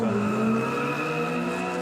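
A racing car at the Chateau Impney hill climb slides tail out with its tyres squealing loudly and steadily while the engine drones close by, all within a couple of seconds; no voices.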